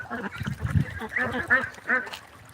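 Ducks on a duck farm quack in short bursts, with a cluster of calls near the start and three louder quacks spaced through the second half, close and fairly loud.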